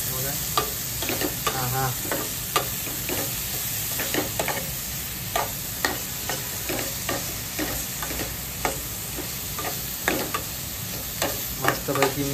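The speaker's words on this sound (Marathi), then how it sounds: "आधी पण आपण मिक्स करून घेऊयात" Food sizzles and fries in a cooking pan as a utensil stirs it, giving sharp irregular scraping clatters over a constant hiss, close and fairly loud, with a brief murmured word.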